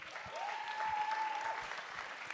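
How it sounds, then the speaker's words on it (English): A community gathering gives a steady round of applause, soft and somewhat distant. A sustained whistle-like tone runs through part of the clapping. "Can we give Mrs. Crume a round of applause, please?"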